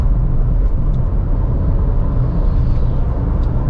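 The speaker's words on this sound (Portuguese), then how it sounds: "Tô aqui de terceira, acelerando forte." A 2024 Citroën C3 Aircross accelerates hard in third gear, giving a loud, steady engine and road rumble heard from inside the car without any talking.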